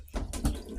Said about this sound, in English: let me get some of this water out of here